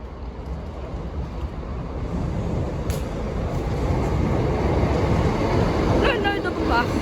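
Train 175112 passes the Lincoln High Street level crossing as a broad, rising rumble with rushing noise, and a few faint tonal beeps come near the end.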